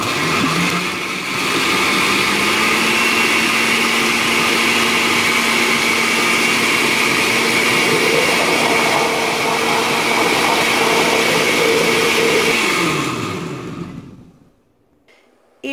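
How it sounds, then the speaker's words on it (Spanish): A blender runs steadily for about thirteen seconds, loud and close, whirring through soup ingredients with a small piece of onion for a seven-seas seafood broth, then spins down and stops near the end. "Y ahora sí, vamos a licuar todo esto junto."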